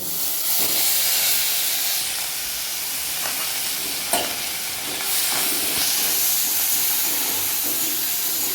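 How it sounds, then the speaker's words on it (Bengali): Grated garlic hits hot oil in a pan, giving a loud, continuous hissing sizzle with occasional sharp pops and spatters, steady throughout with no voices. "রসুন যেটা আমি গ্রেট করে রেখেছি ওটা আমি এই তেলের মধ্যে দিয়ে দেব"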